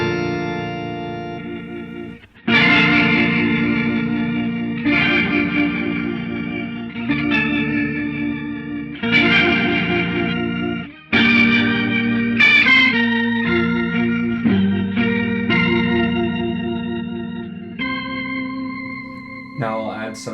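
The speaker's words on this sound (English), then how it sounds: "Let me add a rotary sound to it and it really gets that organ feel pretty close." Guitar chords with a swirling rotary-speaker organ tone, several sustained chords struck in sequence, each ringing and decaying, loud and close.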